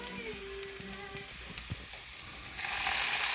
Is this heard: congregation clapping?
no